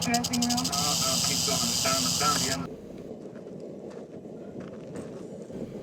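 A melanistic Pacific rattlesnake hisses in a loud, steady broadband rush lasting a little over two seconds, then cuts off sharply, leaving quiet room noise.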